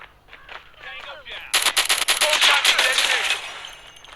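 Dense automatic gunfire crackles through a Call of Duty match, a sustained loud burst of rapid shots following brief game voice lines and speech at the start.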